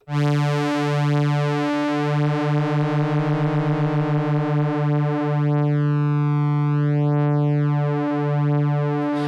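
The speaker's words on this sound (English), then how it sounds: "the second oscillator being used to modulate the frequency of the first oscillator" A Korg Minilogue synth with its second oscillator modulating the first oscillator's frequency, a loud sustained drone with slow wavering beats and sweeping phasing in the upper harmonics.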